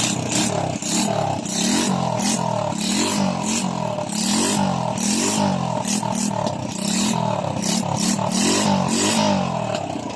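A carbureted Honda Wave 100 motorcycle engine runs steadily after starting, a loud, close, continuous rhythmic putter with uneven revving surges and mechanical clatter throughout, no voices.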